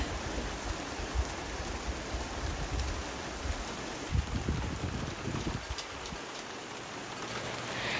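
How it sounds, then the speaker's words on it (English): Steady rain falls outside during a stormy autumn day, a soft continuous hiss with faint patter that runs without a break and without any talk. "It actually just started raining"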